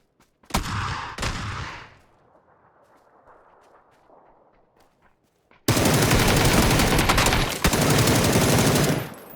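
Loud bursts of rapid automatic gunfire in PUBG, a short volley followed by a pause, then a long sustained barrage, close and intense.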